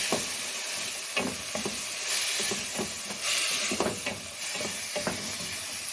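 Fish frying in garlic oil in a pan, stirred with a utensil: a steady close sizzle and hiss with intermittent scraping stir strokes throughout, no voices.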